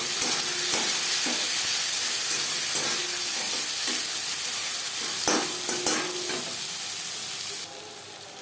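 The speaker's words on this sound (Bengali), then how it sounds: "দশ পনেরো সেকেন্ড জিরে তেজপাতা ভেজে নেওয়ার পর দিয়ে দেবো পেঁয়াজ কুচি টমেটো" Chopped onion and tomato frying in hot oil with cumin seeds and bay leaf for a katla fish curry, a steady close sizzle with stirring clatter throughout that drops slightly near the end.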